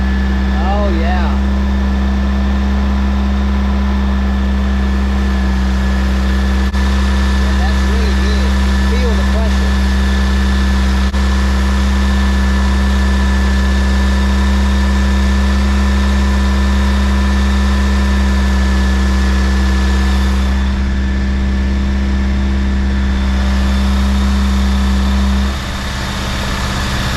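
A 1976 Chevy LUV pickup engine idling with one cylinder misfiring, a loud, steady low drone with uneven pulses running nearly half a minute, close to the engine, then cutting off near the end.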